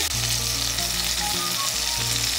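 Chopped tomato stirred into a frying vegetarian dish, a loud, dense sizzle running steadily throughout with a low hum beneath and no voices.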